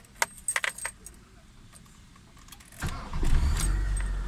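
Mitsubishi Lancer car key jangling as it is turned, followed by the engine cranking and catching in a restart attempt, growing louder and rougher toward the end.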